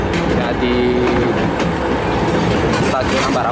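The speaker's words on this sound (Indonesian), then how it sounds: "lokomotif DD 5512 nya dikirim via jalur ini ya dengan lokomotif wisata" A DD 5512 locomotive runs along the Ambarawa railway line, giving a loud, steady rumble of a moving train with wheel clatter throughout, plus a brief tonal squeal or horn-like note partway through.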